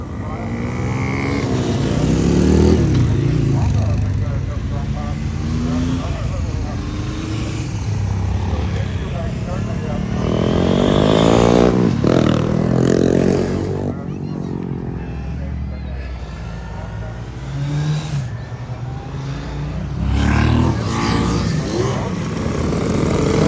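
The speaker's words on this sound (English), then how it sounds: "Seen a few dozen motorbikes going past already." Engines rumble and rise as vintage motorbikes pass by on a road at a rally, one after another, loud and close, with a busy crowd and talking mixed in.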